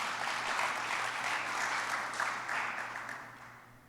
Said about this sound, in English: can we clap for the moms right now because you're the real MVPs?